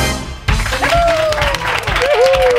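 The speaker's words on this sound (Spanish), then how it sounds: "Con este aplauso, cualquiera se viene arriba" A studio audience applauds at a live Spanish radio comedy show, a dense burst of clapping that starts abruptly and holds steady, with a whistle or cheer rising over it.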